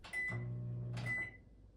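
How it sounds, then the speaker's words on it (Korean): A compact dial-operated kitchen microwave oven gives a short electronic beep and hum, two brief tonal bursts close by in a quiet room. "먼저 전자레인지예요."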